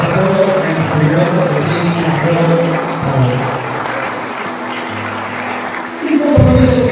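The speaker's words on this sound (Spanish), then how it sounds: "Yo le invito a darle un aplauso fuerte a Dios por este centenario" A church congregation celebrating a pastor's centenary applauds in a loud, sustained crackle of many hands clapping close by, with voices and cheers mixed in and a swell at the end.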